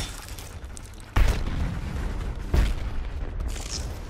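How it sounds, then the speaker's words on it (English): A frag grenade explodes in the video game Predator: Hunting Grounds, followed by a second heavy blast, each a sudden deep boom that trails into a rumbling roar amid ongoing game noise. "Tossing a frag."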